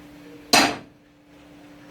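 A metal saucepan bangs loudly once in a home kitchen while spaghetti bolognese is being cooked, a sharp clanging hit that rings and fades over a steady background hum.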